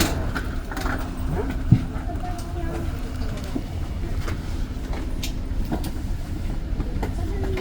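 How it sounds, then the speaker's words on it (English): Low rumble and hum of a Via Rail passenger train with a newer Siemens Charger locomotive standing at a station platform during boarding, steady and fairly close, with a single sharp clank partway through. "there's a Via Rail train to my right being boarded"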